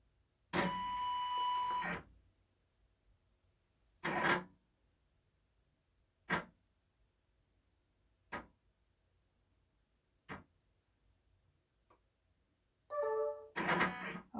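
An embroidery machine rescans a hooped stocking: a motorized whir opens, then spaced short mechanical bursts come at regular intervals as the frame shifts, ending in a busier stretch of whirring and beeps in a quiet room.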